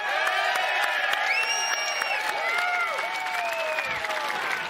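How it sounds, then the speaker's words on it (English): An audience applauds drawn names at a televised football show event, with steady crowd clapping mixed with cheers and whoops, continuous and fairly loud throughout. "give them a round of applause one at a time"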